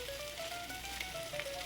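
Slices of Spam fry in a pan with a soft, steady sizzle, quiet and close, with a few small pops and crackles scattered through.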